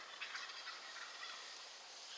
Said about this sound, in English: Turkeys right here.